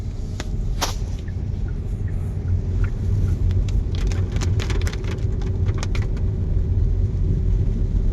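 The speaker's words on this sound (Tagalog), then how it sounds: "Ay, puro ulan." Rain falls steadily outdoors, a constant hiss with a low rumbling background and scattered sharper drops and taps.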